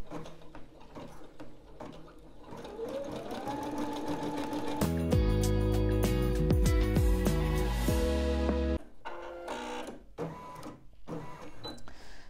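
Skitch embroidery machine stitching a keychain, a busy mechanical chatter of rapid needle strikes with a louder tonal buzzing stretch in the middle, continuous and close.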